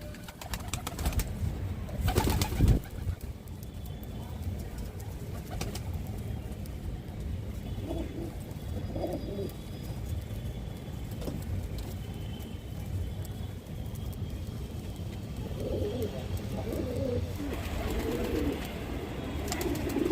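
Pigeons coo softly at intervals while feeding, against a steady outdoor hum, with a short loud clatter near the start.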